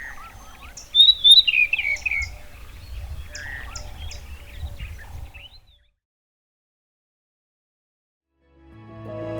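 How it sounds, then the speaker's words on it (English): A bird sings nearby in the Tanzanian savannah during breeding season, a bright varied warbling phrase over faint low rumble, then silence before a soft new sound begins. "Suddenly, I hear a beautiful song next to me."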